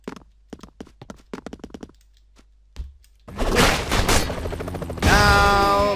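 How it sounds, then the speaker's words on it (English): A big explosion in the side-scrolling action video game Expendabros bursts in loudly after sparse gunfire cracks, then keeps rumbling and roaring alongside fast game music. "Big explosion again!"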